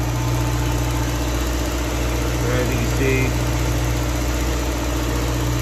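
A Chevy Cruze engine idles steadily with the dipstick pulled out, a constant low hum running beneath a voice as he talks.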